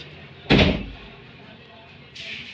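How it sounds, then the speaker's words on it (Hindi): A door in an old haveli swings shut on its own with one sudden loud thud near the start. A quiet, steady room hum follows, with faint hiss rising again toward the end. "खुद ब खुद ही दरवाज़ा बंद हो गया।"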